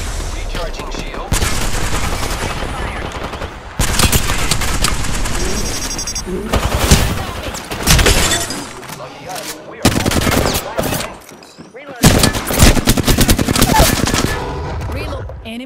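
Video game combat with rapid machine-gun bursts and gunshots firing in loud, close, repeated volleys separated by short gaps, with voices speaking between the bursts.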